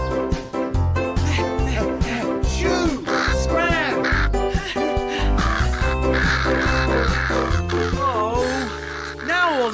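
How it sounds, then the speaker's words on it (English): Cartoon crows caw over busy background music in a children's banana cartoon, several harsh calls repeating throughout as they eat wheat and scarecrows. "The crow's eating the wheat"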